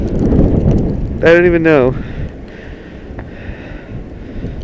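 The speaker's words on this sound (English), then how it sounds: "This wind is like none other." Strong, cold blizzard wind buffets the microphone in a loud, continuous low rumble while a person talks and lets out a brief drawn-out vocal sound; the roar eases slightly but persists to the end.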